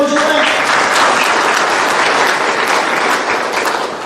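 Sustained, dense clapping from an audience at a spiritual discourse fills the whole stretch at steady loudness, a continuous wash of many hands with faint voices mixed in.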